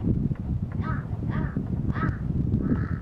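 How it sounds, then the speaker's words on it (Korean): Crows caw several times at moderate distance in Sagarmatha National Park along the Everest trekking route, their rasping calls repeating over steady wind and outdoor rumble. "까마귀 좀안 울었으면 좋겠네"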